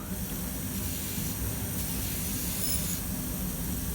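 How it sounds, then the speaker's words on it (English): WD-40 sprays steadily onto a hand-forged steel piece, giving a continuous close hiss that lasts several seconds without a break. "I'm spraying the piece down here with WD-40 to give it some rust protection and to darken it"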